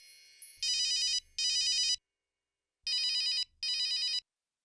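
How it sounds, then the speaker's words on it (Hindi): A telephone rings in two pairs of sharp, trilling electronic bursts with a silent gap between them, loud and close, with no voices. "इस फोन को भी अभी बजना था।"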